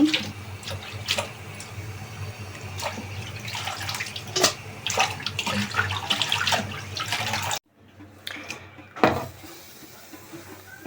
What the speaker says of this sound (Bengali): শাকগুলো আমি অনেক সুন্দরভাবে ধুয়ে নিচ্ছি